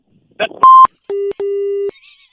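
Telephone tones after a call is cut off: a short burst of noise, then a brief high beep followed by two steady lower tones, the second longer, each clean and loud.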